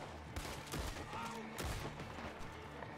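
Repeater rifle fire in the western game Red Dead Online during a fight with cult members, a few sharp shots in quick succession amid layered game noise, fairly faint overall.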